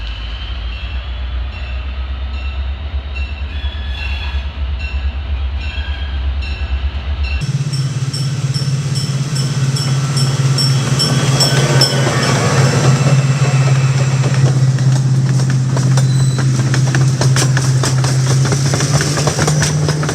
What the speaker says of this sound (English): that train's going slow, we're fine